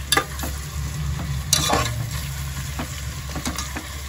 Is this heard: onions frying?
yes